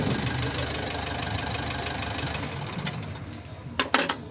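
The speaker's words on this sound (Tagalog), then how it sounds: "Dapat naka-idle lang siya hanggang sa makonsume nyo yung 5 minutes na naka-start niya itong makina." Mitsubishi L300 Euro4 diesel engine idling, heard close: a steady, rough mechanical rumble with a fast knocking pulse, joined near the end by a few sharp clanks and taps.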